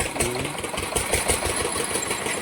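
A generator engine running steadily with a rapid, even chugging pulse and a bright mechanical whine, close and continuous, no talking.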